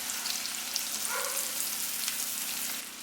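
Garlic and dried mango pieces sizzle steadily in hot oil for an oil mango pickle, a continuous bright frying hiss with faint crackles, close and alone.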